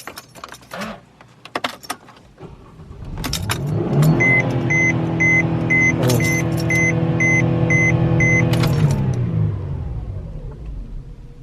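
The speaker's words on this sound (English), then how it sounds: "Okay, so let's fire up the car here." Keys jangle, then a car with a Pedal Commander throttle controller fitted cranks and catches, its engine running loud and close with a rising rev before cutting off and fading near the end.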